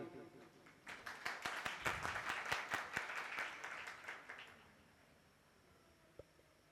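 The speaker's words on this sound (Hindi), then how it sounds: "ये हमारी तालियां उनके प्रति।" A crowd at a Bhaktamar religious training camp breaks into applause, a burst of many hands clapping that swells, holds for a few seconds and fades into quiet, followed by a single faint knock.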